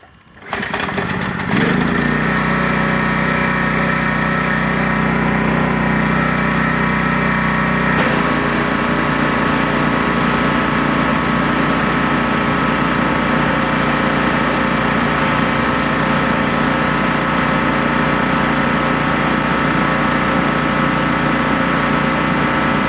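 A gasoline-powered power washer engine starts up and settles into a loud, steady running drone close by, its tone shifting slightly a few seconds in, with no talking over it.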